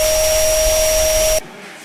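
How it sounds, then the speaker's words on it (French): A vacuum cleaner runs loud and close with a steady roaring whine, then cuts off abruptly near the end, leaving only a faint room hum. "quand je suis chez moi, je passe l'aspirateur"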